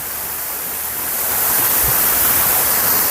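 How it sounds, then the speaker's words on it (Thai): Restaurant waterfall in Hua Hin sends up a constant, loud, broad rushing roar of falling water, close by and swelling slightly, with no voices heard. "น้ำตก ไฮไลท์ของเขาทางด้านนี้เลย น้ำตกนี่ไง"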